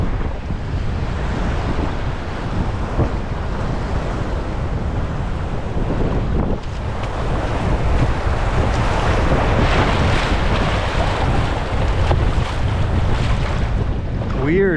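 Rushing river rapid on a Yukon wilderness river, a broad, steady roar of churning water with wind buffeting the microphone throughout, loud and continuous with a slight surge in the second half.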